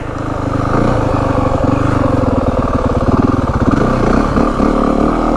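A 2025 Yamaha WR450F dirt bike pulls through a rutted turn in first gear, its engine loud and close with a rapid pulsing thump that climbs and wavers as the throttle works.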